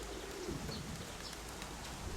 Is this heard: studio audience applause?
no